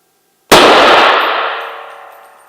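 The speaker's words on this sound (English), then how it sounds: "Now you're shooting into a bullet bunker down there at the other end" A single loud gunshot fired down a range into a bullet bunker, with a sharp metallic crack followed by a long ringing decay that fades over about two seconds.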